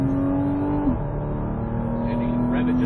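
A Porsche Cayman S engine revs on a racetrack, its steady in-car drone climbing in pitch, dipping briefly at a gear change, then rising again close and loud.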